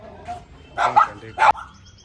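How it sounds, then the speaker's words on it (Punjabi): A few short dog barks ring out close by, two or three sharp yaps with quiet gaps between. "ਇਹਨਾਂ ਨੇ ਇੱਥੇ ਕੁੱਤੇ ਵੀ ਰੱਖੇ ਹੋਏ ਆ ਆਹ ਕੁੱਤੇ"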